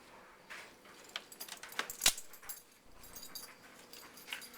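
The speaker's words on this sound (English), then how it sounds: "This puppy is 6 months old." A six-month-old puppy makes soft, high whimpers and yips in short bursts. A sharp metallic jingle like tags or keys cuts in near the middle, in a quiet indoor space.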